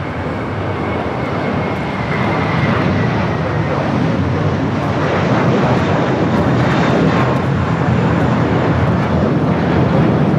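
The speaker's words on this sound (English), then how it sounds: "There's a FedEx that landed on the north." A FedEx cargo jet inbound from Memphis lands on the north runway at LAX, its broad, steady engine roar holding loud and close across the whole stretch with no talk over it.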